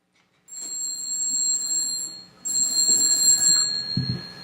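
A hand-cranked dynamo telegraph device, hacked to run off 9-volt batteries, rings in two sustained bursts of steady, bright bell-like ringing, close and loud, with a short pause between them and faint mechanical clunks under the second burst.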